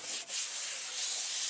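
Bone folder rubbed firmly over paper on a mini album page, a continuous close, dry scratchy rasp lasting under two seconds.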